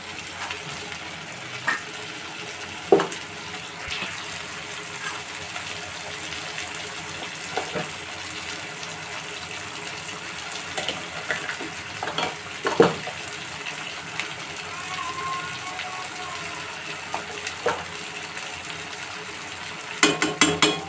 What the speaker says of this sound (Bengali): এবার আমি সর্ষে বাটা জিরে বাটা আর শুকনো লঙ্কা বাটা যে মিক্স করে রেখেছিলাম ওইটা আমি এবার দিয়ে দেবো